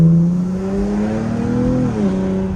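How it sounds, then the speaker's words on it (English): Volkswagen Jetta engine revving, its steady drone rising and then dipping with a brief turbo flutter near the end, close and loud with no talk over it. "I love the turbo flutters, y'all."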